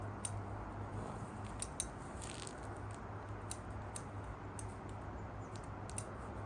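Small pruning scissors snip a Japanese maple bonsai in a forest planting, giving sparse, faint crisp clicks scattered over a steady low background hum, with no talking.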